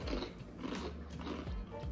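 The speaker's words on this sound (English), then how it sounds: "Love the crunch." Crunchy shell-shaped Korean snack chips coated in sesame seeds and a sweet glaze, bitten and chewed up close with steady crisp crunches throughout.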